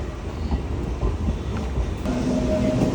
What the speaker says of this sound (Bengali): আজকে এই ট্রেনের ফার্স্ট রান হচ্ছে বহরমপুর থেকে।